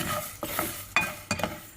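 Mustard and fennel seeds fry in oil for a chilli pickle, with a soft sizzle broken by several scraping stirs and clinks of a spoon against the pan, close and fairly loud.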